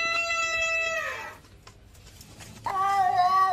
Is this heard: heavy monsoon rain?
no